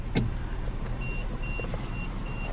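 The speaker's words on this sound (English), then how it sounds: "The beeping you just heard is a 15-second reminder" A car's left-foot accelerator system gives a 15-second reminder as a thin series of short electronic beeps, about four evenly spaced tones over a low engine idle and cabin rumble.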